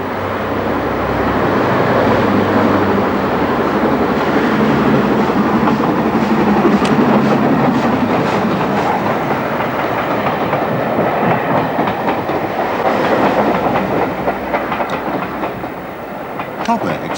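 An LMS steam locomotive in 1930s maroon livery runs on the preserved Great Central Railway, a loud, steady rumble of wheels and carriages with rhythmic clicking over the rails throughout.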